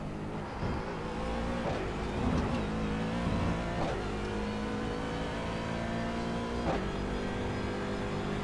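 A race car testing at Daytona ahead of a 24-hour race drones steadily at high power with several brief surges as it accelerates, heard from inside or close to the car with no talking.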